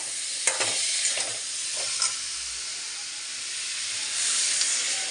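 Onion and garlic paste hits a hot pan with a loud, bright, hissing sizzle that holds steady and swells again toward the end, heard up close with a few faint knocks.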